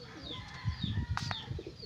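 An injured pigeon with a gunshot wound coos briefly in low, soft murmurs at close range, broken by a couple of short hissing bursts.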